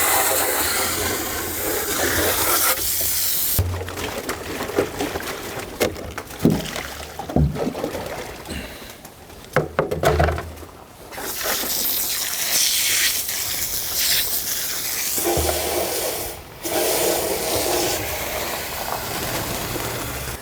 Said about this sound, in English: You can see I'm kind of spraying it with the hose.